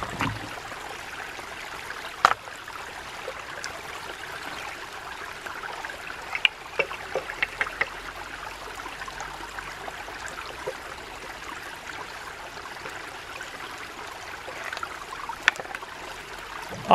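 Creek water flows and trickles around a small rebuilt dam at a ram pump intake, a steady low wash with occasional light splashes and clicks, close by and without talk.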